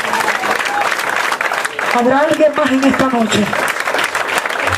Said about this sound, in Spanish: Cuánto un aplauso, Señor,